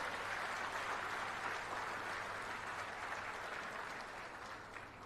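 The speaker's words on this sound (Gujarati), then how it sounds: "હવે માંજલપુરની જનતા માટે તાલીઓ પાડી દઈએ." Steady, dense clapping from a large audience at a political gathering in a Manjalpur hall, Vadodara, holding an even level throughout with no talk over it.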